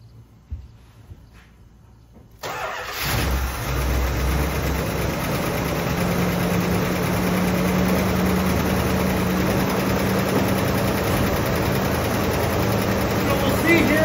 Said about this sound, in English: I'm going to start this and we're going to let it run for a minute.